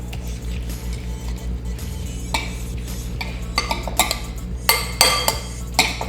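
Lemon sauce mixed in a bowl, a run of clinking, scraping utensil strokes that grow louder and more rapid toward the end, close by over a steady low background hum.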